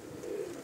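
Pigeons at Haji Mehar Asghar's home loft give a single short, soft throaty coo, low and fairly close, with no other sound around it.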